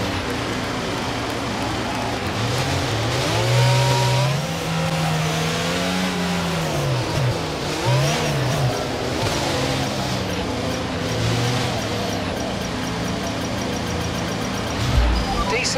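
A Formula 1 car's engine in the F1 22 video game revs and climbs in pitch during a race start, with rising and falling harmonic sweeps, loud and near, mixed with other cars and some voice chatter.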